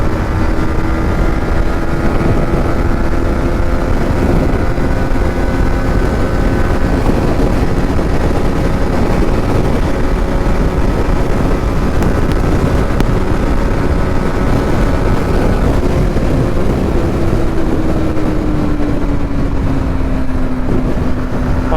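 A Yamaha MT-15 motorcycle runs at high speed in third gear, with a loud, steady engine drone and harmonic whine over constant wind roar, and the pitch dips slightly near the end.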